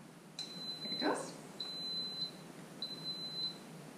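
An electric pressure cooker gives three short electronic beeps, evenly spaced and fairly clear, with a brief bit of speech and light room noise between the first two.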